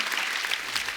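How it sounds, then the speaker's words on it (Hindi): A studio audience on The Kapil Sharma Show breaks into a brief, dense burst of steady applause. "इसके लिए भी जोरदार तालियां"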